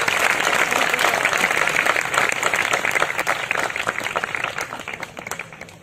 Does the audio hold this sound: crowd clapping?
yes